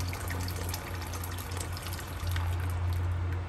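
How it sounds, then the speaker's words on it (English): Hot water poured from a kettle into a cooking pot of Guyanese pepper pot, a continuous splashing, trickling stream close by over a low steady hum, with no talking. "I'm gonna go in with some hot water from my kettle and start the boiling process."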